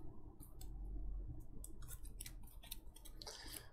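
Board game cards being shuffled by hand, heard as close, crisp riffling and sliding card noises in irregular bursts, fairly quiet and with no voice.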